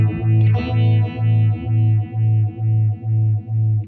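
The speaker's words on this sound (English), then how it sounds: "So the Invidium is also a 6 FET phaser." Electric guitar through a Red Witch Invidium 6 FET phaser pedal with regeneration, a sustained distorted chord sweeping in a steady, pulsing whoosh about twice per second, loud and close with no voices.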